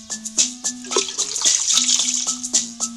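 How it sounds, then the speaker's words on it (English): Water from a hose splashes into a dog's water dish in a video game, with short gurgling bursts and trickles alongside a repeating chiming musical tone. "Move the hose to fill up the dog's water dish."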